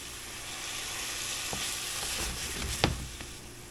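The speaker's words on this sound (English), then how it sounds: "Deglaze with a little white wine. And we'll let the alcohol burn off of that." A pan of sauce for puffball mushroom lasagna sizzles steadily as white wine hits it, with a broadband hiss throughout and a few sharp clicks and crackles near the end.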